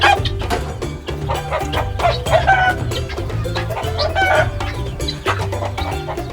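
Hens cluck busily and a rooster crows inside a coop, a dense, loud, continuous flock chorus with no talking over it.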